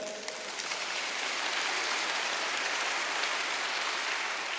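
Congregation at an evening church camp service applauding together, a dense, even wash of many hands clapping at moderate distance that holds steady for several seconds without voices.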